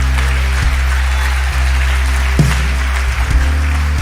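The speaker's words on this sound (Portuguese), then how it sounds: "Dê um aplauso ao Senhor." Congregation applauding in church, a steady broadband wash of clapping over a sustained low tonal drone, likely an organ or keyboard, with a few brief louder accents.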